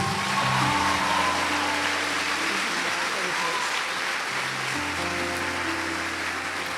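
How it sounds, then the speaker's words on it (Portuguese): A church congregation applauds steadily, a dense wash of clapping with murmured voices and background music underneath, holding at the same level throughout. "Pode aplaudir Jesus."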